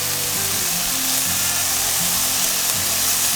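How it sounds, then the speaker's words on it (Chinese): King oyster mushroom strips pan-fry over medium-low heat in a steady, close, unbroken sizzle, with soft background music underneath. "先让杏鲍菇煎一下，别急着加水，杏鲍菇等下自己会出水。"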